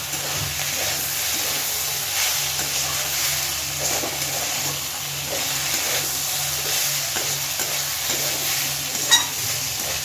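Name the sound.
stirring coriander leaves into frying kohlrabi curry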